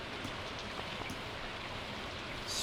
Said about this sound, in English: It's a good day to shop because it's raining